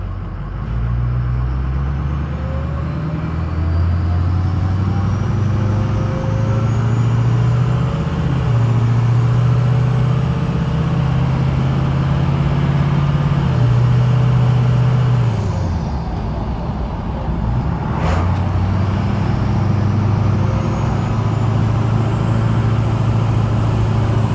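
A 6.0 diesel truck engine with a new cold air intake runs loud and close, its rumble rising and falling while a high turbo whistle climbs and drops with each rev, with a brief dip in the middle.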